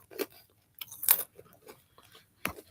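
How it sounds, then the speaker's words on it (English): Crunchy pretzels being bitten and chewed close to the microphone, several sharp crunches in irregular bursts separated by brief quiet gaps. "Got some crunchy pretzels around here."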